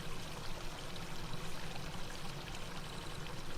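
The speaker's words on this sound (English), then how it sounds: "I have no audio except the water. The sound of the water." Steady running water, like a stream or pour, fills the whole stretch at an even, moderately loud level with no break and no voices.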